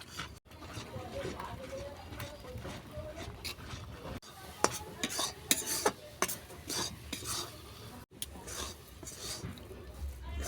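Mango paneer sandesh with mango puree being stirred continuously in a pan, giving repeated scraping and clinking of a spatula against the metal over a low background, with occasional sharper knocks.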